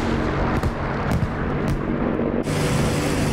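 Anti-aircraft gunners fire at a BF-109 fighter in the DCS flight simulator, producing a steady roar of engine and wind punctuated by several sharp, heavy bursts and thumps, loud and close.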